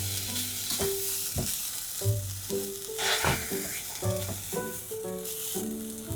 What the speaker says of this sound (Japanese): 残った水分を飛ばしつつ両面に焼き色をつける。